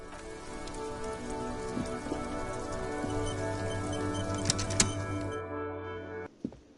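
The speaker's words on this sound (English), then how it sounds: "This rain will not let up anytime soon." Steady rain falls in a Disco Elysium game scene, a continuous dense patter with a few sharper drip ticks, fairly soft and even before cutting off near the end.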